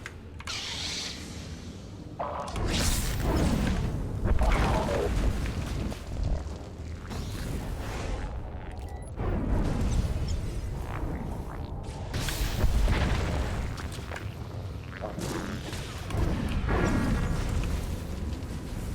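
Deep booming blasts as a generator explodes in Star Wars: The Old Republic, a loud rumbling burst after a brief lull, followed by further heavy rolling booms and debris noise.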